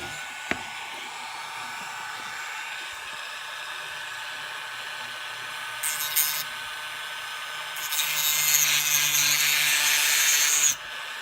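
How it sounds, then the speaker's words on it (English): A Dremel rotary tool set to speed 9 whines steadily, then grinds into a small plastic LEGO minifig part, with louder high-pitched cutting bursts near the end before the motor cuts off. "So let's get our Dremel tool set to 9, and let's start cutting."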